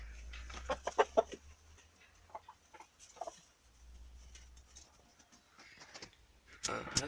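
Hens cluck in short, scattered bursts at close range in a small coop, with a low hum underneath and a brief louder squawk near the end.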